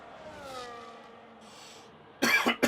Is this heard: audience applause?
no